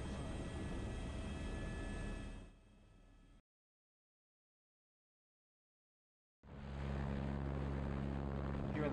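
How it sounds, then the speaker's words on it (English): A helicopter's rotor and engine drone loudly and steadily while it is gently set down on sloped ground during a landing, cutting to silence for about three seconds before the full roar resumes. "I will very gently put the helicopter down to make sure I was right about the amount of slope."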